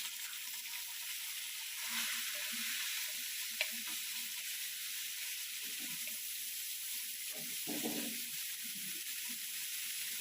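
Small shallots sizzle softly in a pan for a traditional chicken curry, a faint steady frying hiss with occasional light stirring scrapes and no voices.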